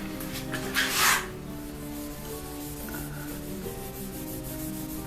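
Abrasive wax is rubbed onto a turned wooden pen, starting with a short, loud scratchy rub and settling into a softer, continuous friction sound over a low steady hum.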